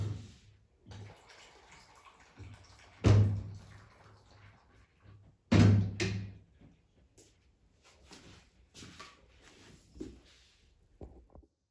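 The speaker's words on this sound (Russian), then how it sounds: "Мы сюда добавим пол-литра воды." Half a litre of water is poured into cabbage-pirozhki dough in a makeshift home kitchen: two short, loud splashing gushes over a low steady hum, with quieter handling noises between and no talking.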